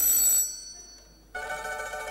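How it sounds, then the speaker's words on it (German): An old-fashioned telephone bell rings in two short bursts separated by a brief pause, bright and close, on a German television show. "Telefon."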